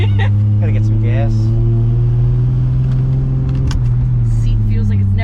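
A Toyota Supra engine running steadily, a loud, close, continuous low rumble with a brief rise in revs, while people talk over it.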